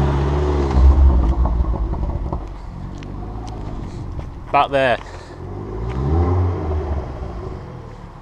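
Car engine rumbling and revving as it drives up and parks near a skate spot with ramps and school benches, a low steady motor under casual talk from nearby voices.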